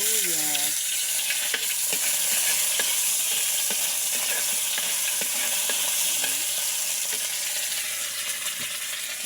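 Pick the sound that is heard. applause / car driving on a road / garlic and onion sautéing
garlic and onion sautéing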